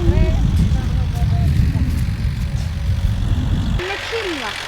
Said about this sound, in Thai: ตอนนี้ก็ให้รถไถ ไถทวนอยู่นะครับทุกคน